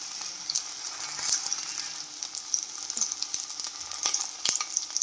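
Green chilli and onion cook on low flame in a pan for potato and pea cutlets, giving a soft, steady sizzle with occasional sharp clicks and stirring scrapes close by.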